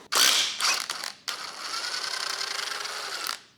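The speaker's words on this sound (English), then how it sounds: "then we release the shaft bolt, and that's gonna push the sprocket off" A ratchet releases the shaft bolt on the timing chain of a BMW 535D diesel, a few rapid clicking bursts followed by a longer grinding ratchet run, close and alone.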